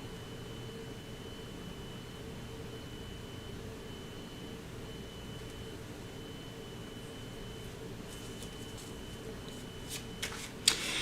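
Tarot cards are shuffled softly during a reading, a quiet steady riffling hiss that continues throughout and ends with a few sharper snaps as the deck is handled.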